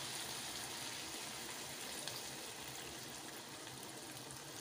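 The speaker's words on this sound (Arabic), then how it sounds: "بس هنزود لها طبعا كوباية مية مغلية." Boiling water is poured from a cup into a pan of cooking kidneys, giving a steady, quiet rushing gush that runs unbroken throughout without any talk.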